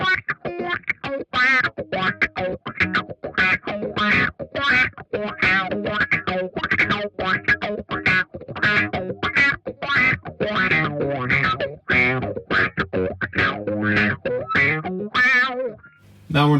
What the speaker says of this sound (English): But it's a cool auto wah.